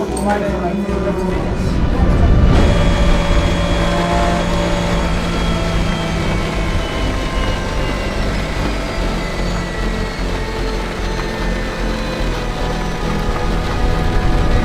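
Heavy rain pours down at the Le Mans race, a dense steady wash of noise filling the whole stretch, with engine rumble of cars running in the wet underneath and no talk.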